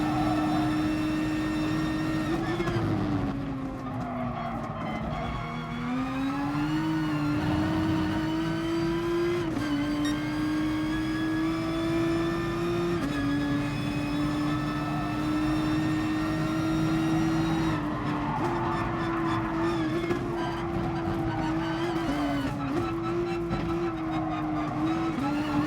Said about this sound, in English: I like how this car sounds